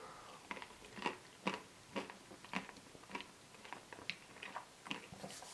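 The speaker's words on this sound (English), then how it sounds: "There's not much ice cream out there in like the Magnum form that is quite as crunchy as this." Someone bites into a crunchy Magnum Euphoria Pink Lemonade ice cream bar, giving a quiet, close series of about a dozen sharp crunches at a steady chewing rhythm, with no talking.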